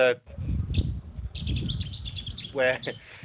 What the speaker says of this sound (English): there's some lovely birds tweeting in the background there